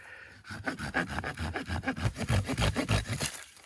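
A small holly Christmas tree being sawn down by hand outdoors in the woods, a steady rhythmic back-and-forth rasp of the blade through wood, close and fairly loud.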